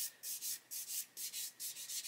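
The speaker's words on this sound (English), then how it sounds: "I'll come along now with a 1000 grit sponge. Just polish where I've been sanding" Rhythmic rubbing strokes of a 1000 grit sanding sponge polishing over sanded areas of a plastic scale model, about eight even back-and-forth passes, close and fairly quiet with a bright hissy scrape.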